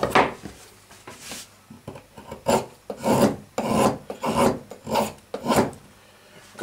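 A Kizer Mini Paragon knife with a recurve blade of 154CM steel whittles wood in a steady series of rasping strokes, about one every half second, loud and close with no talking.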